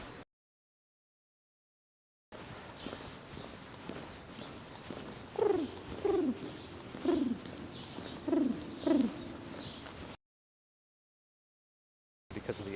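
A pigeon in Central Park coos in a short series of soft, low, rounded notes, about five calls spaced a second apart, close by over faint outdoor ambience.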